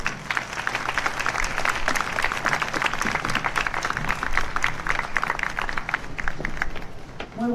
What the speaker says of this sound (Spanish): Bienvenida, fuerte el aplauso.